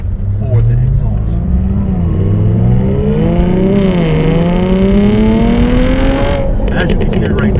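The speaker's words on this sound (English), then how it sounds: "As you can hear right now, like the pops and bangs, it's pretty cool the way they have it set up." Jaguar F-Type sports car exhaust accelerating loudly up through the revs and popping on lift-off, a continuous close engine roar with rising harmonics and crackles, voices talking over it.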